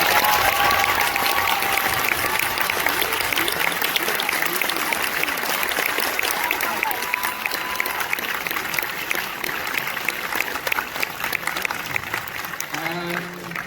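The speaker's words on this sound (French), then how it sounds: "On peut les applaudir encore, hein." Sustained, dense applause from a cinema audience after a live musical-comedy number at a film premiere, a continuous wash of many clapping hands with crowd noise, fading slightly toward the end as a voice begins.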